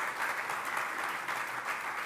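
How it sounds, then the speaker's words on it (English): Applause from an audience at London Tech Week 2023, a steady, dense wash of clapping sustained throughout without a break. "Give a round of applause to these ladies for hosting and having time to spend time with us."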